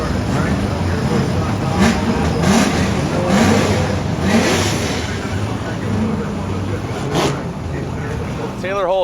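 A brand new Corvette drift car at a Formula Drift competition in Long Beach, its engine droning and revving loudly and continuously, with crowd noise around and an announcer talking over it.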